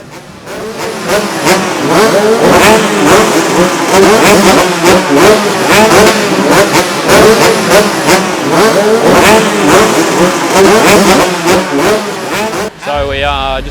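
A KTM 125 two-stroke motocross bike roars loud and close as it heads out on a sight lap at a motocross nationals race, the engine rising and falling continuously through gear changes.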